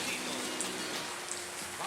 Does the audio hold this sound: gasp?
no